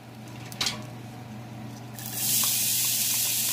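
Onions dropped into hot oil in a pan over medium heat, bursting into a loud, steady broadband sizzle after a brief clatter, continuing close and unbroken.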